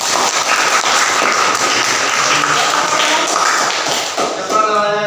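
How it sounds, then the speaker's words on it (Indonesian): Applause from participants in a classroom teaching session, a steady dense patter of clapping filling the whole stretch, with a few voices near the end. "Oke, tepuk tangan."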